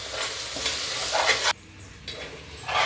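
Masala sizzles loudly as it is sautéed and stirred in a pan for coconut milk chenna gravy, the close frying hiss dropping out briefly before returning.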